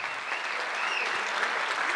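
Applause from an audience at a Gujarati community anniversary cultural program, a dense steady clatter of many hands clapping continuously at moderate distance for the whole stretch.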